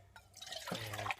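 Water pours from a smaller camp-cooking container into a bigger graduated one, a short splashing, dripping fill lasting about a second and growing fuller toward the end.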